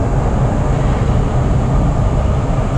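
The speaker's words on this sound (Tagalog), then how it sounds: "Tapos may dumadaang LRT." A steady, loud low rumble of a passing LRT light rail train in Manila, heard from a terrace, fills the whole stretch, constant and unbroken, with no voices over it.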